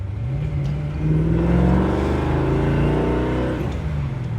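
A 1967 Chevrolet Malibu with a 383 stroker V8 and 4-speed accelerating hard in second gear, a loud, deep engine roar rising steadily in pitch, heard close from inside the car with no talking.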